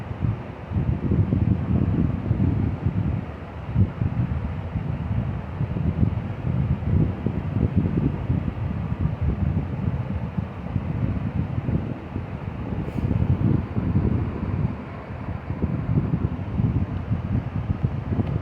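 A small electric fan blows across frozen water bottles in a homemade air conditioner, giving a steady, close whooshing hum with a dense low rumble that holds constant throughout.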